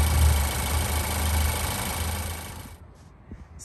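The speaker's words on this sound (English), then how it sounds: "This is a 2-liter four-cylinder engine paired with an automatic transmission, and it's a front-wheel drive." A 2014 Ford Focus SE with a 2-liter four-cylinder engine and automatic transmission idles with a steady low hum and a faint higher whine, fairly close, before the sound drops away near the end.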